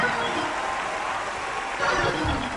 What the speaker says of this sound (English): Clap your hand for your Isaac.